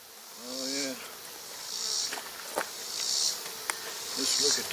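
Honeybees around a hive being broken down by a beekeeper, a buzzing drone that swells in several passes close by, with a brief voice and a few sharp knocks.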